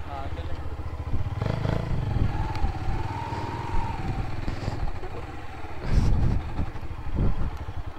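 A motorcycle carried up a thorny hill footpath near a hill station in Rawalpindi, its engine rumbling and revving with clatter over uneven ground, with voices talking over it.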